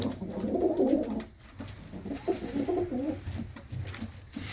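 Several pigeons coo steadily in a loft, their low rolling calls overlapping continuously at close range with no talking.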